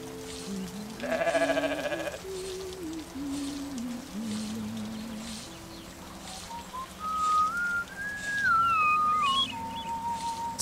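Goats, one brown and one black, bleat indoors in a farming game: a wavering bleat near the start, then a long rising and falling high cry later, over quiet ambient sound.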